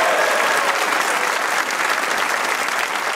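Studio audience on a Hindi-Urdu comedy talk show breaking into sustained applause, a dense, even roar of clapping from many hands that holds steady from start to finish.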